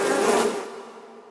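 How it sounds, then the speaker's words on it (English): Buzzing of killer bees, a dense swarm-like drone that rises loud for about half a second and then thins into a softer, fading hum, with no talk over it. "Killer bees."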